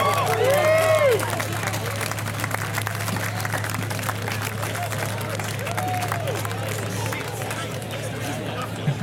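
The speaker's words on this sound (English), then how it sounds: "Give it up for a big Port Macquarie round of applause to the winner" A crowd at the BBQ Wars 2018 barbecue competition in Port Macquarie claps and cheers for the steak category winner, a dense spread of applause with whoops and chatter continuing throughout.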